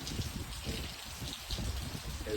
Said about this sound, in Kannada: ಹೆವಿ ಮಳೆ ಬರ್ತಾ ಇದೆ ಇವತ್ತು.